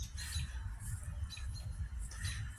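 Birds squawk outdoors in a string of harsh, repeated calls over a steady low rumble, with no one talking.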